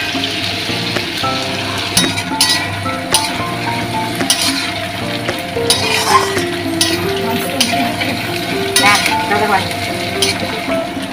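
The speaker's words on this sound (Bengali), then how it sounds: "পেঁয়াজটা একটু ভাজা হোক।" Onions fry in oil in a pan for a prawn curry, with a continuous sizzle and recurring clinks and scrapes of a stirring spoon, plus a faint tonal background hum.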